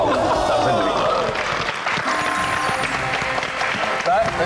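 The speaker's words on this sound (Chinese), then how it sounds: "掌声鼓励" A studio audience applauds on a Taiwanese TV variety show. Dense clapping runs throughout under a host's talk and light chuckles.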